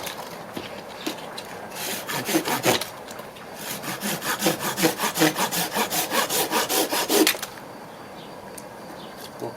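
A new Dnipro-M saw cuts through cherry wood in a quick rhythmic run of strokes, a short burst first and then a long steady series of rasping back-and-forth pulls close by before stopping.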